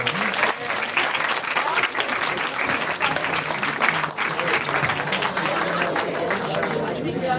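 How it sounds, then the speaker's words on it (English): An audience at a student research conference applauds the paper winners, with sustained dense clapping filling the room at a steady loudness for the whole stretch, accompanied by some crowd murmur. "A round of applause for them, please."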